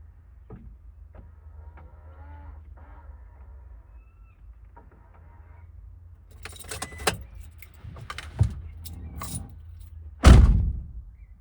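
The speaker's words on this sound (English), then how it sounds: "Now what I'm going to do is I'm going to turn the car on." Keys jangle and click in the ignition of a Toyota HiAce, quiet at first, then a few louder clunks and a brief rising whir as the van is switched on, close and with no talk.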